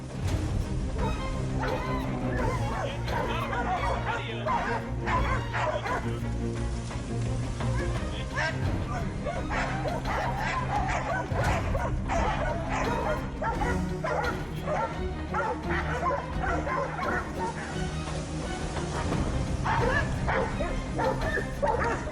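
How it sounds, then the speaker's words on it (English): A pack of hunting dogs barks relentlessly at a cornered adult warthog, a dense, continuous chorus of overlapping barks, yips and whimpers layered close and loud throughout. "The pack quickly fans out, applying pressure with a relentless chorus of barks."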